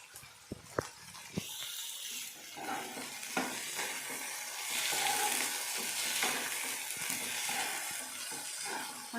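Paneer cubes fry over raised heat in a kadai-style restaurant dish, giving a continuous close sizzle that swells louder midway, with scraping stirs and a few sharp spoon knocks against the pan early on.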